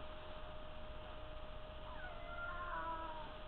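A pet cat meows, with a rising, drawn-out call arriving near the end of an otherwise quiet stretch over a steady background hum.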